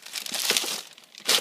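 Packaging of a Logitech MK320 wireless keyboard being opened, close crinkling and crumpling of plastic and paper in a few quick irregular bursts, with louder rustles near the end.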